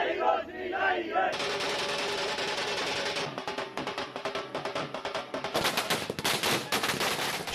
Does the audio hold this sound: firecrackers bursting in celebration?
yes